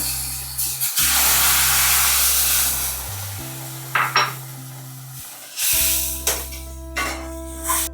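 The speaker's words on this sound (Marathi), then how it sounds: "तेवढी वाटी आपण दुधाची घेणार आहोत. तर मी टाकून घेते थोडंसं." Milk poured into hot roasted semolina (rava) for mango sheera sizzles in loud, broad hissing bursts that swell and fade several times, with a few sharp clinks of a pan or utensil between them.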